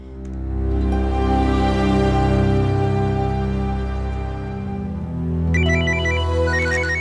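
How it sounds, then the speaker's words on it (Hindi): A telephone rings with a bright, repeating electronic ringtone melody over a steady musical background, loud and close throughout, with no talking. "जरूर सुबोध का ही फोन होगा।"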